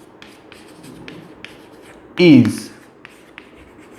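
Marker or chalk strokes scratch across a classroom board in short bursts while a teacher talks steadily over them.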